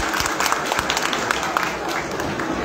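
Football fans applaud in Kastamonu Gazi Stadium during a Kastamonuspor versus Serik Belediyespor match, a dense, continuous crowd clapping heard from a distance with a broadcast commentator talking over it.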